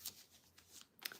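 Tarot cards shuffled in quick bursts, a riffle at the start and a sharper flurry near the end, with soft gaps between, close and fairly quiet.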